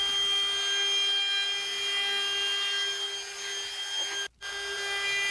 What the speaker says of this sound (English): Using my DeWalt palm router here,